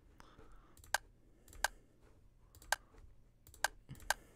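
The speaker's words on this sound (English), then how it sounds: "wonder if I could just type on the keyboard." Sparse keystrokes on a computer keyboard while typing into the game Simulacra: about five sharp, isolated clicks spaced unevenly over a few seconds, close and fairly quiet, over a low background hum.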